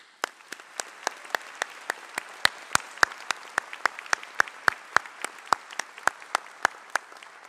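Applause for faculty and preceptors at a pharmacy school doctoral hooding ceremony sounds as sharp, individual claps picked out at a steady pace over a soft crowd background, with no cheering.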